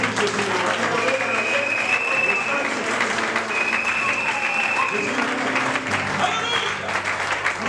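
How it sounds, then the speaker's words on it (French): A congregation in a French-speaking church service applauds Jesus, loud continuous clapping with a few whistles and raised voices mixed in, sustained and close for the whole stretch. "Est-ce que nous pouvons applaudir Jésus?"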